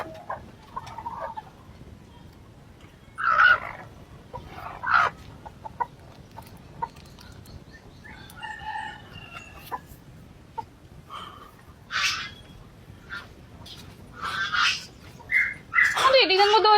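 Chickens cluck and squawk in scattered bursts, some close and loud, others fainter, with quiet gaps between calls.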